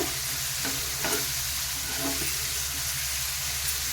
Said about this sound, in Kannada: ಚೆನ್ನಾಗಿ ಇದು ಫ್ರೈ ಆಗಲಿ